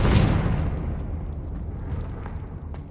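A Confringo blasting spell goes off in Hogwarts Legacy, a single loud burst at the start that decays into a rumbling tail, with a few faint clicks scattered after it.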